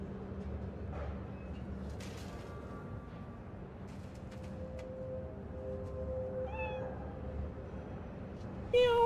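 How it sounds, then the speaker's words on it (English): A small cat meows several times in the video game Cyberpunk 2077, faint short calls over a low ambient game hum, with a louder meow at the very end. "Little cat."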